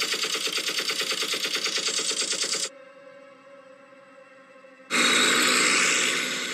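Rapid machine-gun fire as a sound effect in a Spider-Hulk stop-motion movie: a loud, dense rattling burst, a roughly two-second pause filled with a faint ringing tone, then a second intense burst.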